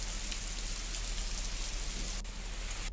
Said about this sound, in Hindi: सुबह से यहाँ पर बारिश का जो दौर है वो शुरू हो गया है